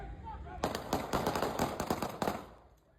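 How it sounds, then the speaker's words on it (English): Idaho police officers fire at a knife-wielding teen in a rapid string of about eight sharp, somewhat muffled, distant shots packed into under two seconds. "Then officers shot repeatedly"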